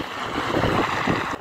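Strong winter wind gusts through the gap between apartment buildings in Norilsk, a loud rushing roar buffeting the microphone for a second and a half with no voices.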